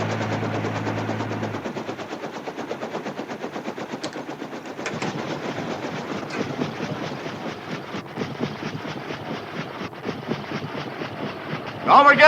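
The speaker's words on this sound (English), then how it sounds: "You just passed the train, so put me down in front of it" A passing train from a 1960s TV comedy set around a rural railroad, heard as a long rapid mechanical clatter, steady and fairly loud, with a voice speaking over it and a louder burst at the end.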